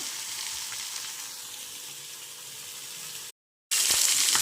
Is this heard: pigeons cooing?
no